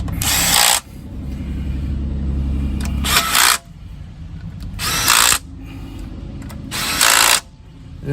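Power tool tightening transmission pan bolts on a 2007 Buick Lucerne outdoors in snow: four loud, short high-pitched bursts spaced about two seconds apart, each a sharp whir, with a low engine-like hum running underneath between them.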